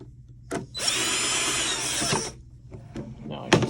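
A power drill drives screws into the cover of a Juki TL sewing machine, one loud sustained whir of about a second and a half, bracketed by sharp clicks and handling knocks close by.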